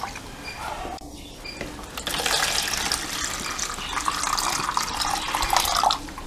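Water splashing and gushing into a dog's bowl, a steady close rush of pouring that grows louder after the first couple of seconds, with faint background noise and no talking.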